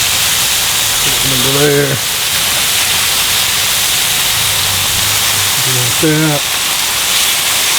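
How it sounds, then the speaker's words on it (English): Chicken searing in a hot pan gives off a loud, constant broadband sizzle and hiss throughout, while someone speaks briefly over it twice. "Get everything down so we can get a good sear on it."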